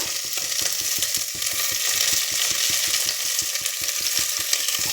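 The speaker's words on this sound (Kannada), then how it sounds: "ಅದನ್ನು ಫ್ರೈ ಮಾಡ್ಕೊಳ್ಳೋಣ ಟೊಮೊಟೊ ಫ್ರೈ ಆಗಿದೆ" Tomatoes and onions fry in a pan for dal sambar, a steady broadband sizzle running throughout with a fast, regular series of stirring scrapes and taps layered on top, close and fairly loud.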